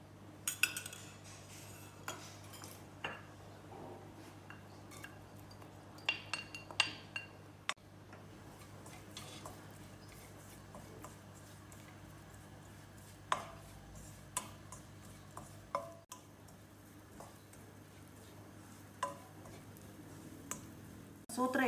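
Peas being sautéed in a spoonful of oil in a pan over a low flame, heard as faint, scattered clinks and scrapes of a spoon stirring against the pan over a quiet background.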